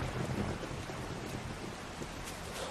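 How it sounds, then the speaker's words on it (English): Steady broadband rain hiss with faint patter, constant and fairly loud throughout, a downpour in the video game 7 Days to Die. "I hope the sound is right and then rain isn't overpowering my voice."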